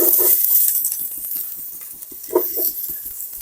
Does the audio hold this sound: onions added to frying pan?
yes